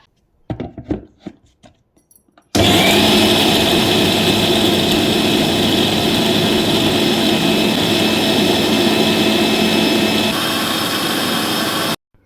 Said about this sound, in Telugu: మొత్తం సామాన్లు అన్నీ కూడా మిక్స్ పట్టేసుకొని వాడుతాను